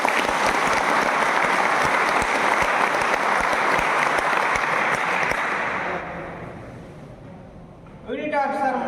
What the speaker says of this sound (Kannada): ಅವರು ನೀವು ಒಂದು ಜೋರು ಚಪ್ಪಾಳೆ ಹೊಡೆಯಿರಿ.